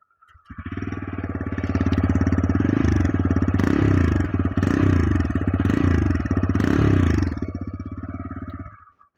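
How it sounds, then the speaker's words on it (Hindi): A TVS Raider 125cc motorcycle engine runs close by, its exhaust putting out a steady thrum, with several blips of the throttle raising the pitch before it cuts off. "चलिए अब इसकी मैं आपको एग्जॉस्ट साउंड सुनाता हूँ।"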